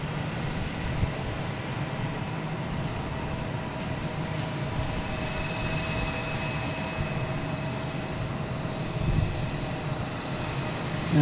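A British Airways Airbus A380-800 airliner at Boston Logan airport makes a steady, distant jet roar that holds evenly throughout without voices.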